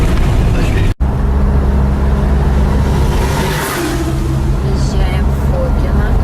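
A car drives along a road toward the seaside, with a continuous engine and tyre rumble that swells slightly as it accelerates, and a low murmur of voices in the background.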